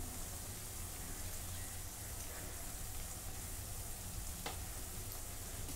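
Homemade onion-garlic masala frying with tomato in a pan, a steady dense sizzle that stays quiet and even throughout, with one brief clink near the end and no voices.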